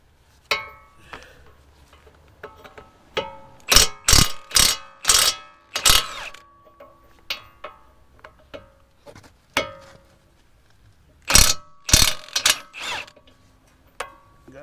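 A ratchet loosens the brake caliper mounting bracket bolts on a 2015 Jeep Grand Cherokee during a brake job, heard as several close, sharp runs of rapid clicking separated by short pauses, with no talking.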